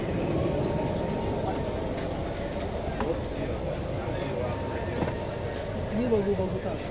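Inside an Indian passenger train in Mumbai, a steady, loud rumble of the moving carriage continues throughout, with faint rattles and murmuring voices of crowded passengers in the background.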